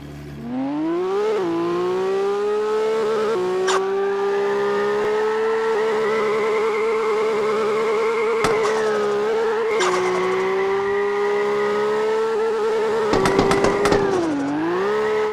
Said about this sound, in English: I'm gonna check the backfire and turbo to see how it looks like